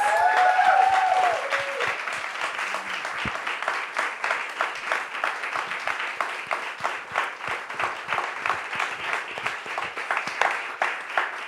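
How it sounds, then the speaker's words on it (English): A theater audience at a post-show talk applauds the dance performers, a full, sustained round of clapping that turns into a more regular, rhythmic beat as it goes on, with a few brief vocal cheers at the start. "Can I get another round of applause for these artists?"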